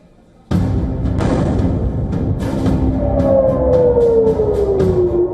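Air raid sirens blare during an Israeli strike on Iran, a loud rising-and-falling wail that starts abruptly and is joined by a sliding tone, with sharp bursts over a dense rumbling bed.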